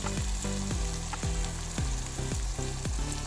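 Cleaned anchovies sizzle steadily in a hot pan, with a run of sharp scraping stirs about every half second over a constant frying hiss, close and alone.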